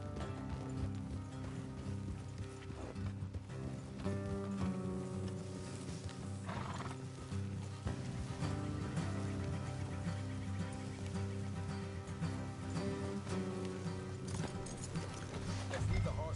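Horses in the video game Red Dead Redemption 2 trot along with steady clip-clop hoofbeats and an occasional whinny, layered over music and voices for the full stretch.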